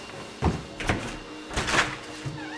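A door opening in the horror video game House of Doom, a few muffled wooden thunks and creaky knocks spread across a couple of seconds over a low background hum.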